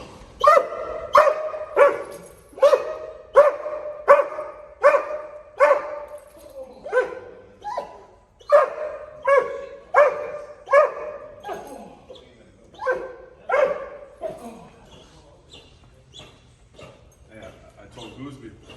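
During bite work training, a dog barks in a repeated, loud, rhythmic series of sharp barks close by, thinning into softer, sparser yips toward the end.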